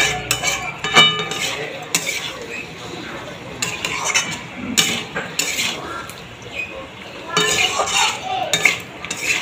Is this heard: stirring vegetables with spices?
yes